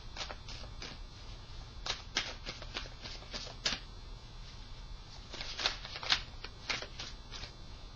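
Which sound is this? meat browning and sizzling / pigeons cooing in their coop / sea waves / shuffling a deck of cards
shuffling a deck of cards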